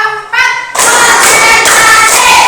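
A fourth-grade class at an Indonesian elementary school claps together on a counted cue. A voice calls out briefly, then dense, loud clapping bursts in and continues evenly to the end.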